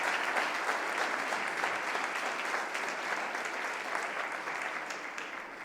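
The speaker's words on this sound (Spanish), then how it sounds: "Dale un aplauso al Señor si lo crees." Steady, moderately loud applause from a church congregation praising God, many hands clapping continuously without pause and easing slightly toward the end.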